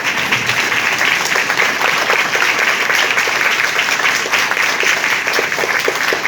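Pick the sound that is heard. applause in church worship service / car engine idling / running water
applause in church worship service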